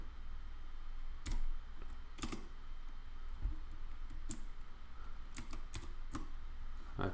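Computer keyboard keys pressed in sparse, sharp clicks, several quick taps clustered near the end like a shortcut combination, faint and close in a quiet room.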